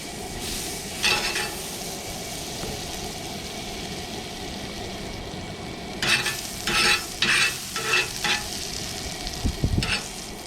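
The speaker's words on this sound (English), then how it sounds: "And these are going to be the smash burgers." Smash burgers frying on a Lodge cast iron griddle over a Coleman 425 camping stove, a constant sizzle under outdoor background noise, with scraping and stirring bursts from a spatula.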